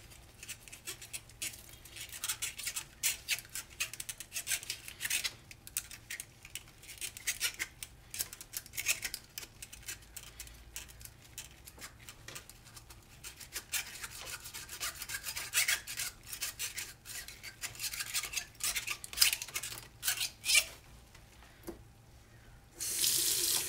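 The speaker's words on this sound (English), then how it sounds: "take each of the tubes and your trombone cleaner, and you want to start putting it through the pieces to get any gunk out of there." A brush is pushed through trumpet tubes under running tap water, scrubbing and rasping steadily against the metal over a constant water flow, with no talking.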